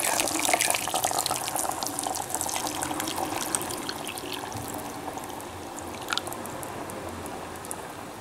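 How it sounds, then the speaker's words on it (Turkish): Hot water pours into a clay güveç pot over chickpeas, salt and meat, a steady splashing gush that runs for several seconds and gradually softens. "Ve şimdi sıcak suyu dökeceğim."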